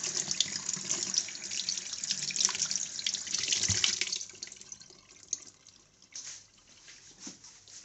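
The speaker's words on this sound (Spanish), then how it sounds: "enjuagoncito en el frío, en el grifo." A kitchen tap runs steadily with cold water, splashing over a fish held beneath it, then the flow thins to scattered drips and trickles.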